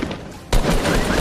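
A sudden loud gunshot bursts in a shooter video game, a single sharp report after a short quiet stretch, followed by a sustained noisy tail.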